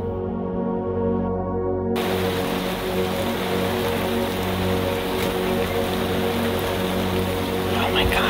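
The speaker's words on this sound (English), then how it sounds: "And then came the rain." Rain falls steadily at a campsite with several dogs. A dense, even patter sets in abruptly after a short quieter start and keeps going without a break.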